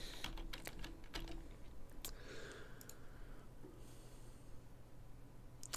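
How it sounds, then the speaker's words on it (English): Typing on a computer keyboard, quick irregular key clicks in short bursts with pauses, close but faint, over a low steady background hum and some breathing. "I am so great with the typing right now"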